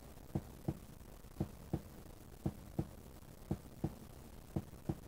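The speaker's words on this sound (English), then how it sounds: "I hear a heartbeat." A heartbeat thumps steadily in the horror game Muffin.exe, paired double beats repeating at an even pace, alone and fairly clear over a low background hum.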